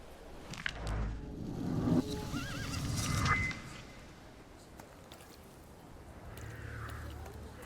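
A horse neighs and whinnies in the video game The Thaumaturge, with soft hoof clops and rustling around it, fairly close and moderately loud.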